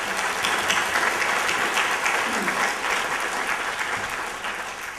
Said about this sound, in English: let's just give one more round of applause for all of us